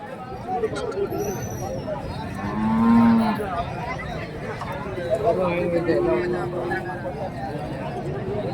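Dairy cattle low repeatedly amid a busy livestock market at Kundarapalli, Krishnagiri district, one loud moo rising near the middle, with crowd chatter and people talking throughout.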